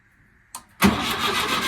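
A VW Wizard car engine turns over and catches when the key is turned, a short click followed by a loud sudden start that settles into a steady close running note.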